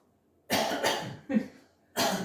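Three throaty coughs up close, the first two quick together and the third after a short pause, with silence before them.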